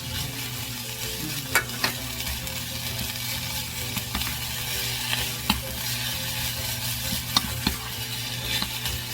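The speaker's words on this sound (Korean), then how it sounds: "약간 파기름내는 그런 식으로 이렇게 볶다가 고사리를 넣고 또 볶아줄게요" Bracken (gosari) is stir-fried in scallion oil for a smoked duck ramen dish. A constant crackling sizzle runs throughout, with a utensil scraping and knocking against the pan every second or two.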